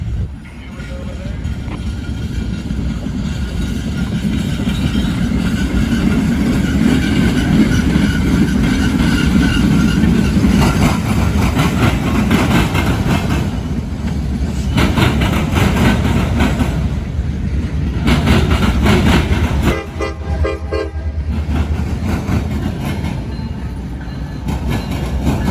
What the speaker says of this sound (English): we got a Caboose coming right now. New York Central Caboose.